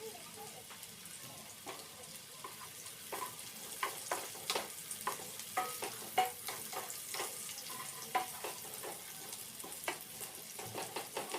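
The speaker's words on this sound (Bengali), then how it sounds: "পেঁয়াজটা প্রায় ভাজা হয়ে এসছে" Onion frying in a pan while being stirred, a soft continuous sizzle under repeated scraping and tapping strokes of a spoon, close but fairly quiet, with faint background voice at times.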